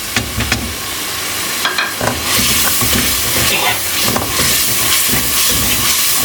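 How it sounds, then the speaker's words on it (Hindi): Ground tomato puree hits a hot pan of spices and onion, setting off a loud, continuous sizzle and hiss with some stirring scrapes, close by and without talk. "ये टमाटर की जो ग्राइंड की हुई प्योरी है ये डाल देनी है।"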